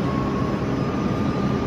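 A metro train sounds at an Italian underground station, a dense steady roar of wheels and motors with a thin high whine running through it, close and loud, with no talking.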